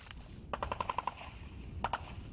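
Distant machine gun fire at front-line trench positions near Yasynuvata in rainy weather, a faint rapid burst of about eight shots followed after a pause by two more.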